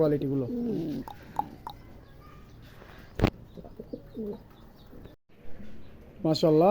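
Black Danish pigeons at a pigeon farm give soft, throaty cooing calls at the start and end, with a sharp knock midway and background chatter.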